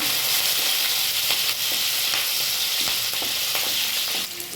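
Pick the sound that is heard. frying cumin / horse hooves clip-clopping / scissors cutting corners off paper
frying cumin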